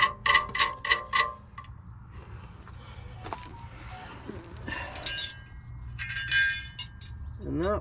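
Metal wrench clinking and ratcheting against jam nuts on a 2021 Aspen Trail 1950BH RV dual propane tank mount, a quick run of sharp metallic clicks followed by scattered clanks and taps, close and fairly loud.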